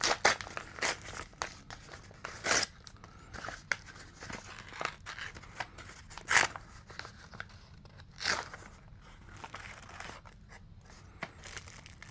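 A small paper envelope from the mail is torn and opened close up, with repeated crinkling, rustling and ripping of paper in short bursts.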